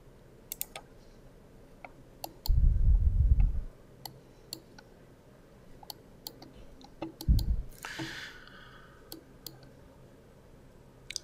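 Computer mouse clicks while working in bridge design software, a series of sharp, quiet single clicks spread across the stretch, close by, with a couple of low thumps between them and no speech.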